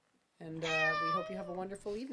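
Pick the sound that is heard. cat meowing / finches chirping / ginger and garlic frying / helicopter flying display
cat meowing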